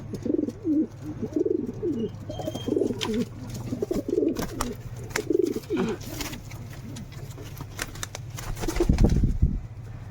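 A king pigeon coos in a series of low, throaty calls close by, with a soft flutter of wings near the end.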